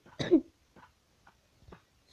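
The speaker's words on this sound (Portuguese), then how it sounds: "Desculpa pela tosse." A single sharp cough bursts out close and loud, then a few faint throat noises follow after quiet gaps.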